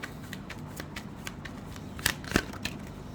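Tarot cards being shuffled and drawn, a string of soft riffling flicks and papery snaps close by, with two sharper card slaps near the end, quiet and unaccompanied by talk.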